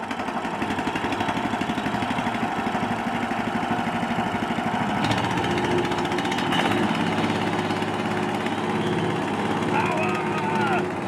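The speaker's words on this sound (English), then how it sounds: "We had hours of fun with the chipper that evening and it performed faultlessly" A small wood chipper's engine runs steadily nearby at an off-grid home, a loud, rapid throbbing drone with a mechanical rattle throughout.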